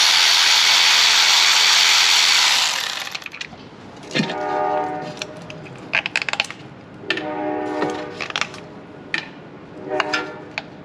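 A train passing with its horn, first a loud rushing hiss that cuts off, then several long tonal horn blasts sounding in separate bursts at a moderate distance.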